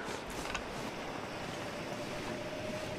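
Steady roar of wind in a snowy survival game, The Long Dark, as a storm picks up; a broad, continuous whooshing gust layer with no voices, fairly loud and unbroken throughout.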